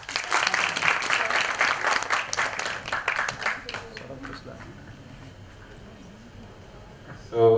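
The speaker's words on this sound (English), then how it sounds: "Welcome him with claps." Group clapping welcomes a participant playing the boss in a workshop role-play, loud and dense for about four seconds before fading into scattered claps and room noise.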